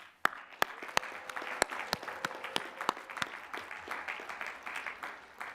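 Audience applause at a graduate commencement ceremony for master's degree graduates, sharp individual claps standing out over a steady wash of clapping throughout, fairly quiet and distant.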